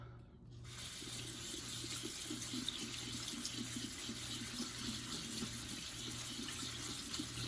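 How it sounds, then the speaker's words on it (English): Cold tap water runs steadily into a sink to rinse gnocchi, a continuous rushing splash with a faint low rhythmic rattle beneath it, no voices. "I'm going to rinse them with some cold water."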